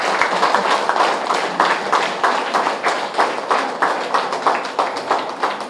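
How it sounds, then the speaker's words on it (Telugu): An audience at a Trinetra Pyramid first-anniversary celebration in Puttur claps hands in steady, rhythmic unison. The close, even beats repeat for several seconds with no talk over them. "చప్పట్లు ఒకసారి మీ అందరికీ"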